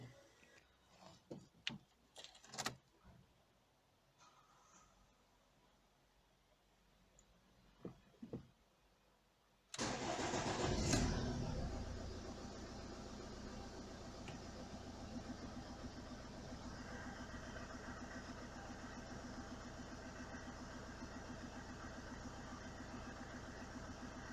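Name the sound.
car diesel engine starting and idling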